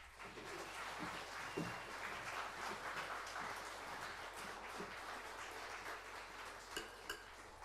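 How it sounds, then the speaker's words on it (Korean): A church congregation applauding as the pastor comes forward: dense, steady clapping from many hands that holds evenly throughout at a moderate distance, with no voices over it. "박수로 크게 환영하겠습니다."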